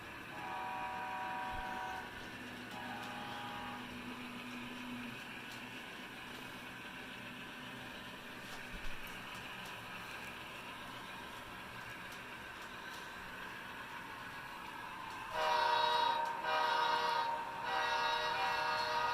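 A model railroad train runs along a home layout, a steady quiet rolling hum with faint squealing tones, then a brighter whistle-like horn sounds in a few short blasts near the end.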